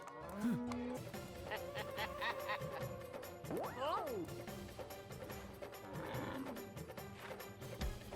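A cartoon buffalo lets out a drawn-out moo with bending pitch in an animated scene, set against background music and snickering laughter, with voices around it.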